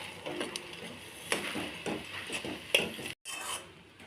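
Rusk halwa with cardamom powder being stirred in a pan, steady scraping and rubbing of a spoon against the pan with occasional sharper clinks, close and moderately quiet, no talking.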